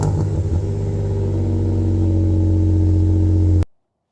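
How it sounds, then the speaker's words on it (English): A truck's exhaust with Doug Thorley long tube headers and a Z1 exhaust gives a steady, loud, deep engine drone, close by and alone, with a slight swell at the start before it cuts off abruptly. "I will be throwing a sound clip of how it sounds with the Doug Thorley headers."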